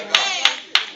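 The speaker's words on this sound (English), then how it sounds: "See, I got one hand clap on that right now." Three sharp hand claps, evenly spaced about a third of a second apart, ring out loudly over a sustained droning voice or organ backdrop in a church service.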